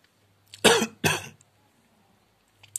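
Two sharp, loud coughs close together, close to the listener, followed by quiet with a faint low hum.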